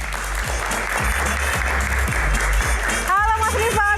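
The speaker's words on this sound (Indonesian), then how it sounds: "tepuk tangannya dong lebih keras lagi" Loud, steady applause from a talk-show audience welcoming a guest fills the clip, and a voice starts speaking over it near the end.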